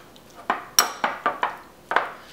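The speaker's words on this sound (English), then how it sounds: "So we're just gonna mash it up." A fork mashes well-boiled cauliflower in a pot or bowl, six sharp clinking taps against the dish in an uneven rhythm, close and clear with no talk.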